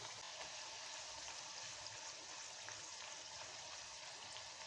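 Puri frying in hot oil, a steady fine crackling sizzle that stays even and moderately quiet throughout, alone with no talk.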